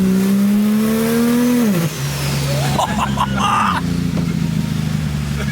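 An old car engine revs loudly and steadily as the vehicle drives, its pitch dropping as it shifts, with some knocks and rattles mixed in.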